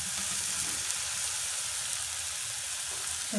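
Onions fry in hot oil with a steady, close, even sizzle that fills the whole stretch alone, without any talking.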